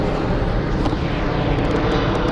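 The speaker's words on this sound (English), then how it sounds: "there's an airplane coming over, I think. Not sure if you guys can hear it. It's kind of quiet. It's maybe a little private jet or something." An airplane passes overhead as a steady, broad roar that stays even across the moment, with no voices heard.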